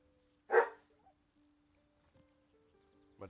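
A dog in the video game Baldur's Gate 3 gives one loud, close bark, then only faint game tones and a small whimper-like sound follow, with another sharp sound cut off at the very end.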